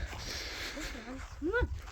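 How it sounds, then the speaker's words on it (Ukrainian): A dog gives faint, high, rising-and-falling whimpers near a farm tractor being prepared for fieldwork, two or three soft whining cries over a low background rumble. "Дикий хороший собака у мене."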